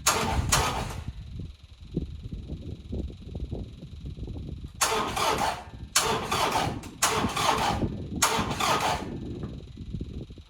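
A tractor engine cranks in repeated bursts, several separate starter attempts over a low rumbling idle, loud and close inside a barn.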